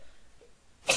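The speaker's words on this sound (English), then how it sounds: "I gotta sneeze." A single short, sharp sneeze bursts out at the very end after near silence, close and fairly loud.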